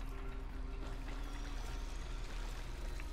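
Water flowing steadily in the video game Warframe, a continuous rushing and trickling wash with no talk over it, close and even throughout.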